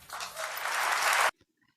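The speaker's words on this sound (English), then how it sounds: "So you hear them clapping right there" A short burst of audience clapping rises quickly, holds for just over a second of crowded hand claps, then cuts off abruptly into near silence.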